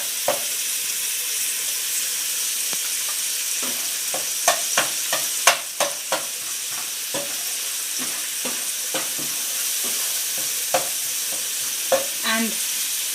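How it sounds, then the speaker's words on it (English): A tarka of green chilies and coriander leaves sizzles steadily in a pan for a Punjabi dal, with repeated sharp stirring scrapes and clacks punctuating the constant frying hiss. "So I'm going to saute this."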